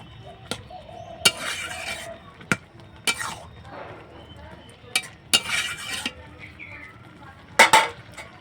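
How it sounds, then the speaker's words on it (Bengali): Carrot halwa with milk being stirred in a pot, with sharp spoon clinks against the metal at irregular intervals over a low simmering bubble and brief rustling scrapes. "ঢাকাটা তুলে নিয়েছি নিয়ে একটু নেড়ে চেড়ে দিচ্ছি"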